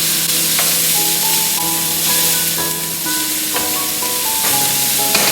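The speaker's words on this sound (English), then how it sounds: "Just stir it around until the onion is slightly translucent" Chopped onion sautés in a hot pan, stirred with a wooden spoon while cooking a Salisbury steak dish; a steady, close sizzle runs throughout, with a light melodic tune playing in the background.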